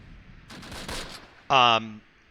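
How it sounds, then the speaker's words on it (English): Mortar and gunfire in the Close Combat Last Stand Arnhem video game: a scattered burst of distant-sounding shots, then a loud, sharp tonal blast lasting about half a second. "They are opening up. Mortars going out."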